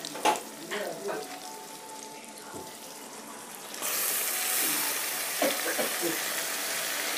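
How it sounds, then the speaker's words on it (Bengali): Meat dropped into a hot pan bursts into a loud, close sizzle that keeps up steadily, after a stretch of quieter kitchen clatter and scraping. "মাংসটা ছেড়ে দিলাম, এখন কষিয়ে নিই সুন্দর করে"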